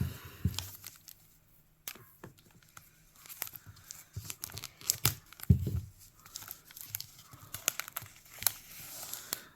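A Magic: The Gathering Aetherdrift booster pack is torn open close up, with sharp rips and crinkling foil among scattered handling noises and quiet gaps.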